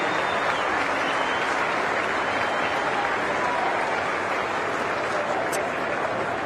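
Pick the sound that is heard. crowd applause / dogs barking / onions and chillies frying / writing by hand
crowd applause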